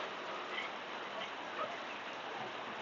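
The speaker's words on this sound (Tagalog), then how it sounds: "Ang lakas ng ulan, no?" Heavy, sudden rain pours down as a steady, dense broadband hiss with no break, close and fairly loud, while a motorcycle taxi rider waits it out.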